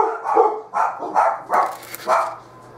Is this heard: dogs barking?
yes